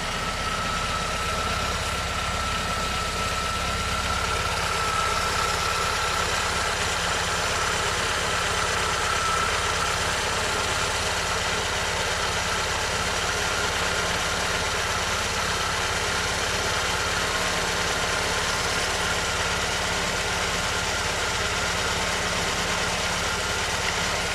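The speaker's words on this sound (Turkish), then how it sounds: "Evet arkadaşlar arabayı şimdi çalıştırdım." A Tofaş Şahin car engine idling after starting, tuned for LPG, a steady continuous low rumble with faint vibration heard up close and unbroken for the whole stretch.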